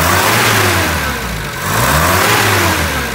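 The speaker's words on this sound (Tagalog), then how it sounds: "I-rev ko siya, no?" A car engine with manifold and ported vacuum hoses that chokes and stumbles when given gas is revved up close, its tone climbing, dipping briefly, then rising again.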